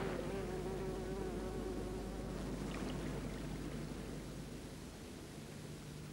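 Honey bees swarm and buzz around a hive in a dense, steady drone that fills the whole stretch, loud and close, with no voices.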